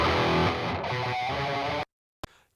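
Audio run through Reaper's ReaVerb reverb at 100% wet gives a dense, washy sustained sound that cuts off abruptly into silence, followed by a brief faint burst.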